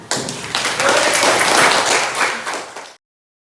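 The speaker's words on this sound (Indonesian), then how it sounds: "kasih tepuk tangan" A school class claps for quiz winners in a classroom, a burst of dense, close hand clapping that swells, holds for a few seconds and then tapers quickly before cutting off.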